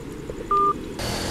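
A single short electronic beep from a Bluetooth motorcycle helmet signalling a phone call, clear and close, standing alone over a quiet background hiss.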